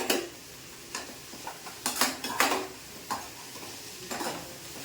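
A spoon stirring a broad bean stir-fry with onion in a pan, repeated scraping strokes at an uneven rhythm over a soft continuous sizzle, close and fairly loud, no voices.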